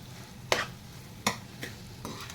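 A spoon stirs grated paneer into a pan of sizzling kasuri methi masala for paneer bhurji, with two distinct scraping strokes and a few lighter ones over a soft, steady frying hiss.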